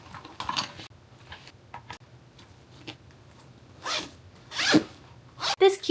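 A zipper on a small packing cube for vlogging tech gear being pulled open and closed in several quick, close rasps, with light handling and soft clinks of items between them.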